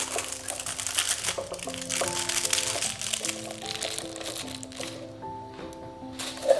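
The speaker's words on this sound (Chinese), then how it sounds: "吐司盒底部有3个洞，我们需要用锡纸包裹住。" Aluminium foil crinkles and crackles up close as it is wrapped around the bottom of a toast pan, with soft irregular crumpling bursts while music plays underneath.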